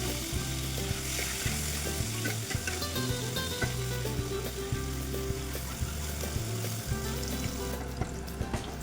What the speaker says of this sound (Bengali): এরপর আমি পনিরগুলো দিয়ে দেবো, পনিরগুলোকেও একটু ভেজে নেব।